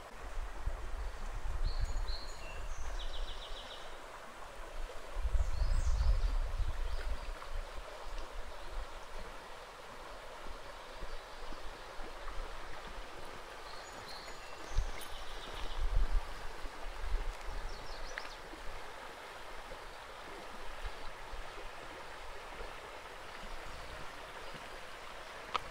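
A stream flows steadily in a Minnesota state park on a sunny day, a soft continuous wash of water with a few faint bird chirps and low rumbles in the background.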